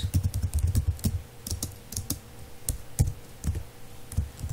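Rapid, uneven clicking of computer keyboard keys as a password is entered, close and clear with no talking.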